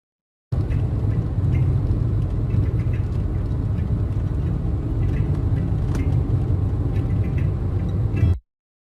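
Simulated car interior noise blending engine drone, HVAC airflow, wind and road rumble: a steady, dense low-frequency roar that starts abruptly, holds constant for about eight seconds, then cuts off.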